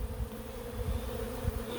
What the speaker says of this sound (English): The bees are starting to fly a little bit more actively around us